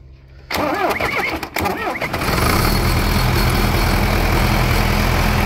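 A large tractor diesel engine cranks with a whirring starter, catches, and settles into a loud, steady rumbling idle nearby.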